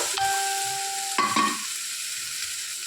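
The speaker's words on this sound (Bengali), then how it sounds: "এবার এর মধ্যে দিয়ে দিচ্ছি আমরা মাছের ডিমগুলো" Fish roe dropped into a hot pan of sizzling oil, a steady loud frying hiss with a brief burst of clatter and stirring partway through, no voices.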